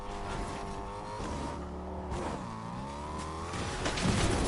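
A car driven in a video game, its engine droning steadily with revs rising and falling, loud and continuous within a busy game soundscape.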